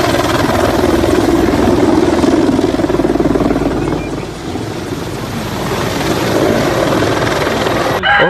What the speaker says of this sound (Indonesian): Wih, ini helikopter, keren sekali.